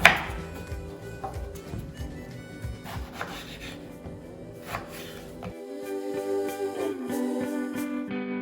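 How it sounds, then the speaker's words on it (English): A knife cuts dried cod into pieces on a board, giving a run of close, uneven chopping and scraping strokes that give way to a steadier tonal background near the end. "Now you cut your dry fish any size you like."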